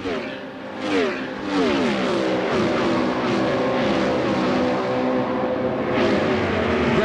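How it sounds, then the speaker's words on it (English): IndyCar race cars lapping the Las Vegas oval during the 1996-1997 IRL Las Vegas 500k, a loud sustained engine roar with several pitch-falling passes as cars sweep by, commentary voice faintly underneath. "Eddie Cheever, the red, white, and blue 51 car, just came around Alfonso Giafone"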